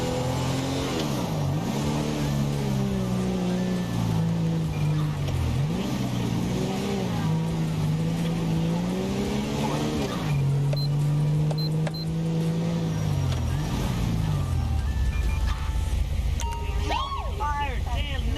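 Engine of a car in GTA V with the LSPDFR police mod, revving up and down in repeated swells and then holding a steady drone before easing off. The engine sound is loud and close, with a voice speaking over it.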